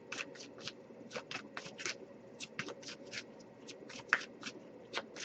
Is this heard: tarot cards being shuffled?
yes